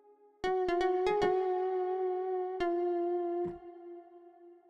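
A sustained synthesizer tone drenched in long plate reverb, struck by a quick run of sharp plucked attacks and then one more later, each note ringing on into a smooth, lingering tail that fades at the end.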